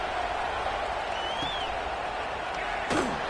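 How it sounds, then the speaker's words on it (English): A football stadium crowd buzzes after a touchdown in a steady, fairly faint roar, with one brief thump near the end. "this crowd is buzzing after that last score"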